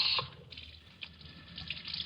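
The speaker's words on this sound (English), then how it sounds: "Turned on the water taps. But water dwindled and stopped." Running water from a tap trickles and splashes faintly, with a few drips, thinning out as the flow weakens.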